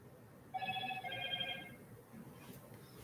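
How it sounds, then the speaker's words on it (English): A phone rings with a short electronic ringtone pattern for about a second, moderately faint over low room background, then fades out. "So phone's ringing."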